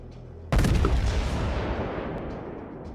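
A U.S.S. New Mexico battleship's main guns fire in World of Warships, one sudden heavy booming salvo after a quiet start, then a long rumbling decay that fades slowly; close and loud.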